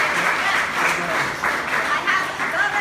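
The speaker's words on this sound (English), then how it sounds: "That deserves a round of applause, don't you think?" A studio audience applauds during an interview with a founder, steady dense clapping filling the whole stretch at fairly close range with no break.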